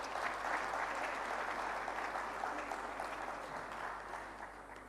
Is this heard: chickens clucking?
no